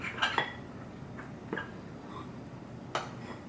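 A spoon clinks against a bowl while stirring cocoa powder and water, three or four light, sharp taps spaced out over a quiet background.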